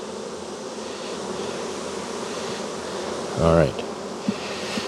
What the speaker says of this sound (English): Got this little sweat bee that keeps landing on me.